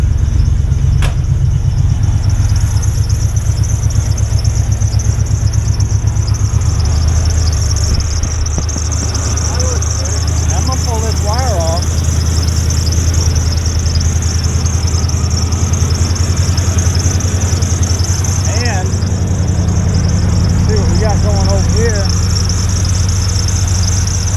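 A truck engine idles steadily with a low, rumbling drone that runs throughout, with faint chirps in the background.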